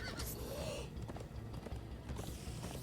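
Horses gallop in Minecraft Story Mode with steady clip-clopping hooves and a short whinny near the start, all under busy game sound effects and a mechanical clatter at moderate loudness.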